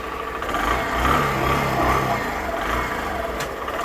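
Honda Shine 100 motorcycle engine starting and running, a mid-pitched motor that rises briefly in revs and then settles into a steady close hum.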